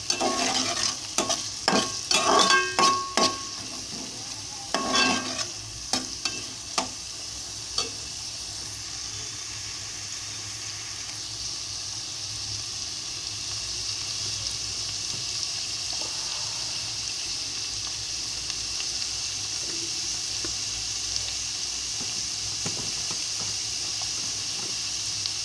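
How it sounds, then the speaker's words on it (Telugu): Four chopped onions frying in oil in a pan, with a few loud stirring clatters early on, then a steady soft sizzle that continues alone to the end. "4 ఆనియన్స్ కడిగి కట్ చేసి పెట్టుకొని అవి వేసానండి. అవి వేగుతూ ఉన్నాయి. ఆనియన్స్ వేగుతూ ఉన్నాయండి."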